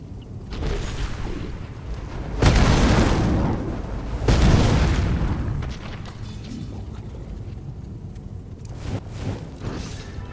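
Fire Cloak spell cast in Skyrim (Requiem mod), two loud whooshing, roaring bursts of flame a couple of seconds apart over steady game ambience, with softer crackles and pops afterward.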